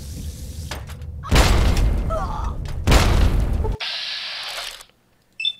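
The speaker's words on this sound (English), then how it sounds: "We've got our sniper rifle. We're gonna start shooting people." Sniper rifle fire in the video game Fallout 3: two loud booming shots about a second and a half apart, each followed by a rumbling tail, then a brief quieter in-game sound near the end.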